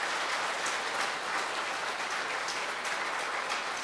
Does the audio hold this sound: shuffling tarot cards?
no